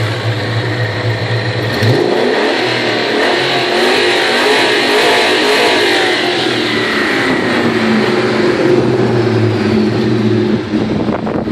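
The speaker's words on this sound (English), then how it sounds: "that exhaust is real raspy and real snappy with that combination I got up there of BBK, pipes violator mid-pipe, it's the X-pipe, and the violator glass pack mufflers" A 2000 Ford Mustang GT with BBK pipes, a Violator X-pipe mid-pipe and Violator glass pack mufflers revs loudly and close, its raspy exhaust rising and falling over a steady rumble for the whole stretch.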